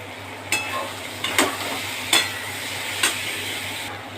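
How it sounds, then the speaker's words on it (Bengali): Vegetables being fried and stirred in a pan, a soft steady background hiss broken by four sharp scraping strokes of a utensil spaced about a second apart, close and fairly quiet. "তো আমি সবজিগুলো একটু ভেজে নিচ্ছি।"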